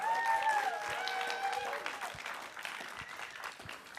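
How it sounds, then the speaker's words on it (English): Audience applause for the drag performer Michelle at a Calgary drag panel: fairly faint clapping from a modest crowd, with high whoops and cheers rising over it early, then tapering off. "Big round of applause for Michelle."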